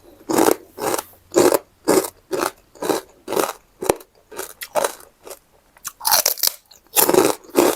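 Crispy pork rind is crunched and chewed up close, a rapid series of loud, sharp crunches in an even rhythm with brief pauses between bites.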